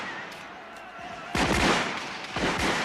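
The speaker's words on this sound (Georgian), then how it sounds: "შეწყვიტეთ სროლა, მმართველის გზავნილი მაქვს." Gunfire in a staged storming of the Bastille: a few sharp shots and bursts, the loudest cluster in the second half, over a noisy crowd-like background.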